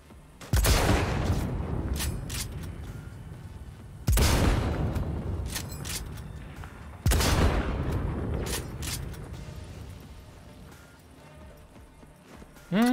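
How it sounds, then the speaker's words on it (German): Three heavy, booming bursts of gunfire from the video game Cyberpunk 2077, each a loud sharp crack trailing into a long decaying rumble, spaced a few seconds apart, with a fourth starting at the very end. "Also irgendjemand scheint auf mich zu schießen immer mal wieder."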